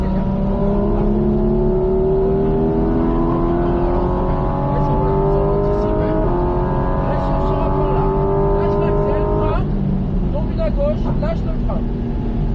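A Porsche 718 GT4 RS engine revs hard and climbs in pitch through the gears at full throttle on a race circuit, loud and close, with someone talking over it.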